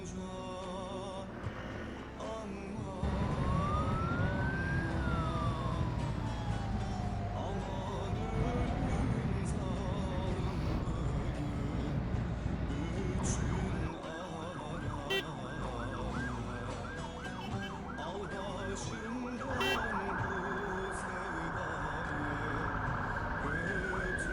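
An ambulance siren wails and yelps nearby amid the rumble of road traffic, heard from a motorcycle, rising and cycling over engine noise.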